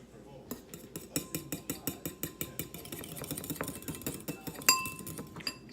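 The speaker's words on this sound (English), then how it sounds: "we're going to whisk that up with a fork" Egg whites being whisked with a fork in a bowl: quick, regular metallic clinks, about a dozen evenly spaced strokes close up, then looser, irregular taps and scrapes.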